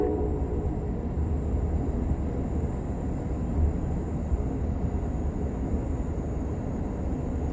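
A passenger train pulls into Philadelphia station, heard from inside the car as a steady low rolling rumble with a faint high whine running throughout and no voices.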